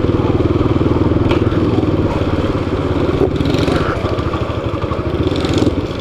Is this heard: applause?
no